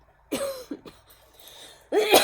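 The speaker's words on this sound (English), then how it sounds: "I know it because I started coughing." Two bursts of harsh coughing, close by: a short cough, a quick pair of smaller hacks, then a louder double cough after a quiet pause.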